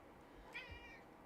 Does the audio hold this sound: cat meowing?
yes